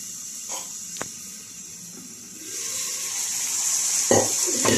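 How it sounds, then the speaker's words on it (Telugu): Cooked lentils with tamarind leaves and amaranth are poured into a hot pot of tempering with fenugreek powder. A soft splash is followed by a sizzle that grows louder and more steady, with a few clinks of the pot. "ఇప్పుడు పప్పు పోద్దామండి. ఇలా పోసి మూత పెట్టేస్తే"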